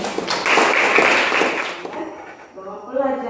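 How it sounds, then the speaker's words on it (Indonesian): A classroom audience bursts into brief applause that lasts over a second and fades, followed by a teacher's voice speaking. "Tepuk tangan untuk refleksi."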